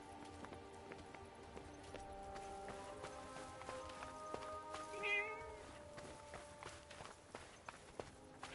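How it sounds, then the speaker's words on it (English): A cat meows in the video game Forspoken, a brief, clear mew in the middle over in-game footsteps, ambient rain and a steady musical drone. "I have a strange feeling that cat wants us to follow it."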